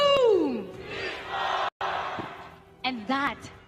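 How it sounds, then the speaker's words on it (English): An esports crowd cheers in unison, a loud massed shout building after a brief call and cutting off, with a voice speaking over it. "And that is the cheer that everybody wants to give you"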